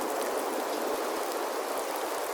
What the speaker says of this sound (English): This one is a rain sound actually,